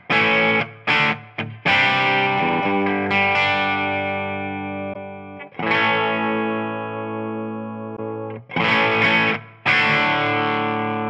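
Electric guitar played through a Friedman Pink Taco amp model with the S switch in the down position, giving a distorted, thick rock tone of sustained chords and short stabs separated by brief pauses.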